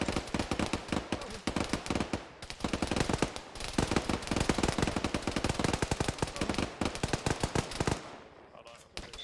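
Sustained gunfire in the military game Arma 3 from a building assault, with loud, rapid automatic bursts of dense repeated shots running almost without pause for several seconds before cutting off.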